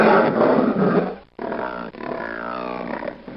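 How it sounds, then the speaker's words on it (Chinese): A recorded pig sound played back by a computer program: a loud, harsh, rough grunting roar, a brief cutoff, then a drawn-out, strained squealing cry, with no speech. "猪叫"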